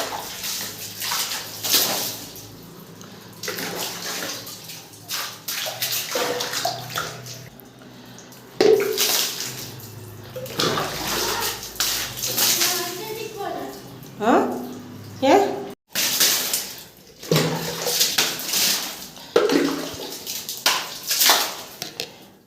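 Water splashes and sloshes on the floor and fittings as a home bathroom is washed, coming in irregular bursts with pauses between them, and a person talks throughout.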